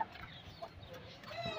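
Hens cluck softly while being given live insect food as chick feed, with scattered short calls over a quiet, steady background.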